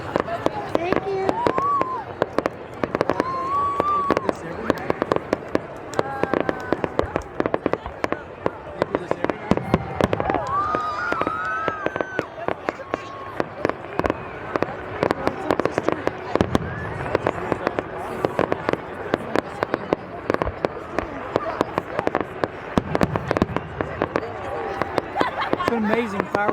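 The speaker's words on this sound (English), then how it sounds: "It's an amazing fireworks show." Dense, continuous fireworks at the Albuquerque Balloon Fiesta crackle and bang nonstop, with rapid pops and distant booms, while people talk and cheer in the crowd.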